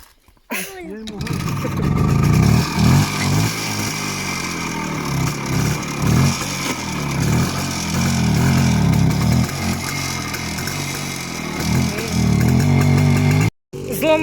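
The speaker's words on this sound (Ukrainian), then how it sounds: "Дала Нікіті мотоцикла." Motorcycle engine revving during an evening ride near a home vegetable garden, loud and close, rising and falling through repeated throttle blips over about fourteen seconds, with a brief drop near the end.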